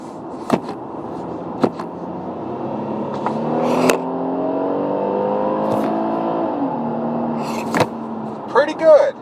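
A 2019 Kia Sorento LX V6 AWD SUV engine pulls through a rising, steady acceleration from inside the cabin, with the tone climbing and then settling, and a person talks over it with clicks near the end.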